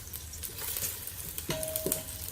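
Onions sauté in oil in a pan for turnip curry over medium heat, giving a soft, steady sizzle, with a few light clinks of a utensil stirring near the end.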